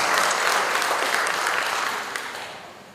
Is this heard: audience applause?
yes